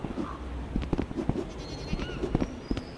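Goat bleating in a video game: several short bleats close by, repeating over a few seconds against a low background.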